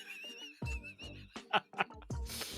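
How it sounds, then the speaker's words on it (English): A descending whistling noise used as a comic sound effect, with tonal sweeps sliding through the upper range before a burst of noisy crashes near the end. "Hey, what's that whistling noise?"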